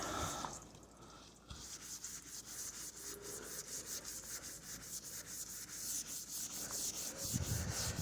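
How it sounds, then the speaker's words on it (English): Rust staining is rubbed off a car hood with steady back-and-forth strokes that make a continuous rasping, sanding-like scrape. The sound is close, runs the whole time with a brief pause near the start, and no one talks. "you can see there's still quite a bit of rust staining to get out, so you just need to keep rubbing."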